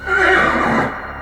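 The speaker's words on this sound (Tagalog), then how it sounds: "nakarinig naman kami ng kabayong parang nagwawala" A horse neighs wildly, a loud, shrill, wavering whinny up close that holds for about a second before trailing off.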